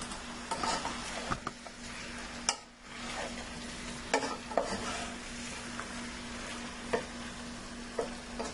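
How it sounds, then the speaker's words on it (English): Onion and other ingredients being stirred in a pan with a silicone utensil, a soft scraping and sizzling texture with irregular clicks and scrapes, close and fairly quiet, no talking. "I need to stir it up."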